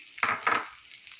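Carrot pieces go into about two spoons of hot oil in a pan, giving two quick scraping, sizzling bursts close by, then a faint hiss fading out.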